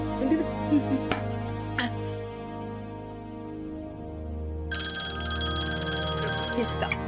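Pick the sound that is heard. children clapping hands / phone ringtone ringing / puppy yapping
phone ringtone ringing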